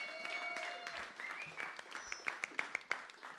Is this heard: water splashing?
no